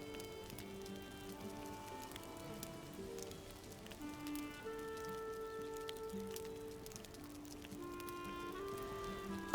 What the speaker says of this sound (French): Ah super, il pleut.